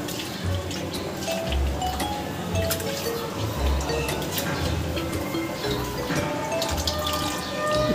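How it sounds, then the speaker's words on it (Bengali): Potatoes being scrubbed and rinsed by hand in a bowl of water, with repeated clinks and knocks of potatoes against the container and splashing, steady and fairly close. "আলুগুলোকে আমি ভালো করে কষলে কষলে ধুয়ে নেব।"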